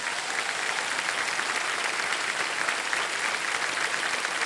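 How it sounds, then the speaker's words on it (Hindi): Steady studio audience applause on a quiz show, a dense, even wash of clapping that holds at constant strength without any voices. "ये जो पैसे हैं हम आपके 5 लाख, ताली बज जाए इनके लिए।"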